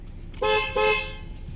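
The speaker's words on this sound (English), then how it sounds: "Real quick, I'm just going to honk the horn." Two short car horn honks in quick succession from a 2019 Mercedes-Benz CLS450 mild hybrid with a 3.0L turbo inline-six, loud and close, over a low background hum.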